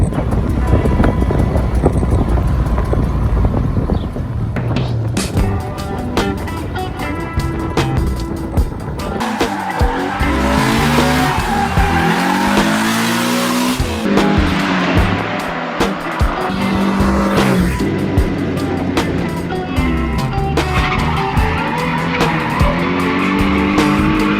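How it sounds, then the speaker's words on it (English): A Toyota Corolla AE71 hardtop drives along a road, its engine and tyre noise rolling continuously under wind buffeting, with shifting surges and some squeal-like tones over about twenty-four seconds. "we are driving the car to the buyer's house"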